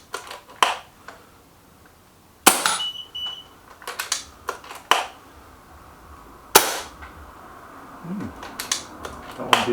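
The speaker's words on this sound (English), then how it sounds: "let's get this Leviathan tested over the chronograph. 5 shots, here we go." A regulated Nova Vista Leviathan air rifle fires a series of sharp, snappy pellet shots across a chronograph, several distinct cracks spaced seconds apart, with small clicks and handling noises between them.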